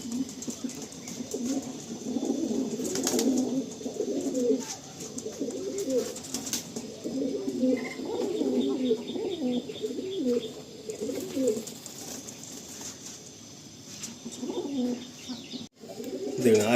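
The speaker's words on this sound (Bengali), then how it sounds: "হ্যাঁ, একদম ইয়াং পায়রা এগুলো।" Young pigeons cooing in a pigeon loft, soft repeated low coos layered over one another steadily throughout, with occasional faint chirps and a brief wing flutter near the end.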